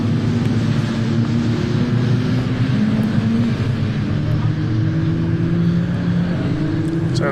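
Racing cars lapping Croft circuit during a BARC race meeting, a loud continuous engine drone with rising, shifting pitches as cars pass close by, with no voices.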